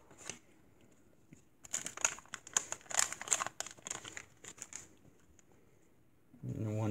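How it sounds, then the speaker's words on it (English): Topps baseball sticker packs being torn open and handled, with close crinkling and crackling foil wrapper noise coming in dense bursts for several seconds, then fading to near quiet. Faint talk follows at the very end. "I'm gonna go ahead and open the stickers."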